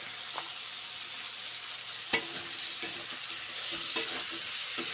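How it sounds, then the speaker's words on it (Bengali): Pointed gourd (potol) sizzles steadily in oil with turmeric and salt, a continuous hiss broken by a few sharp clinks of a spatula scraping the pan, close by and with no talking. "পটল ভালো করে ভেজে নিতে হবে"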